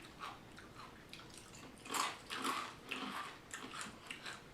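Pumpkin spice cereal crunching between teeth, a few faint close bites and chewing crackles in quick bursts with no talking.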